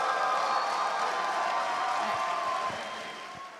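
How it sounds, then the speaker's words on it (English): Audience applause and cheering at a USA versus India chess event, a dense steady clapping wash from a crowd that carries through and slowly fades near the end. "Let's give a round of applause."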